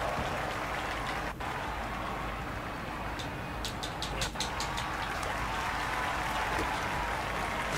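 A WWE 2K24 wrestling arena crowd claps in a steady, continuous wash of applause that fills the whole stretch at a moderate level, with no one speaking over it.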